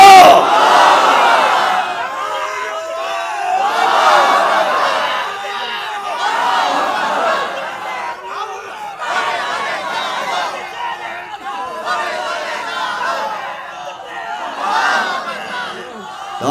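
A large gathering in Chittagong roars the takbir, Allahu Akbar, in repeated massed shouts, each swell of many voices rising loud and then fading before the next.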